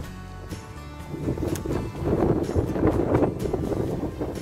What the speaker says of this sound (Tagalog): grabe ang grabe ang hangin. Ang hangin dito.